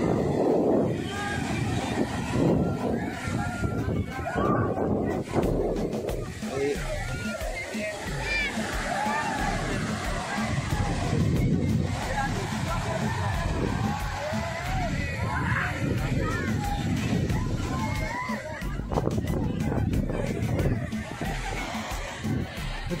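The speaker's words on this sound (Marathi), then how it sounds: "लाटांचा आवाज येतोय" Sea waves wash and slosh along a crowded holiday beach, a continuous surging rush mixed with wind buffeting the microphone and a murmur of people, while a voice talks over much of it.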